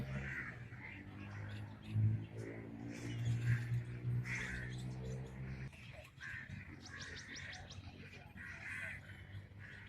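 Crows call in the Bagh-e-Jinnah park, scattered caws and other bird chirps behind someone speaking through most of it.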